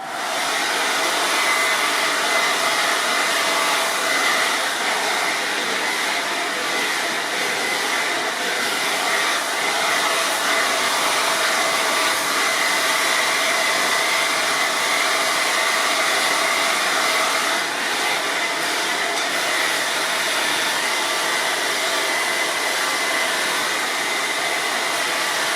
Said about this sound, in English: as I blow dry, I'm going to be using a paddle brush